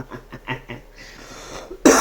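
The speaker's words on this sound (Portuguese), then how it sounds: "Lá vou eu tossir de novo" A single sharp, loud cough bursts out at the end, following a stretch of Portuguese chatter and low background noise.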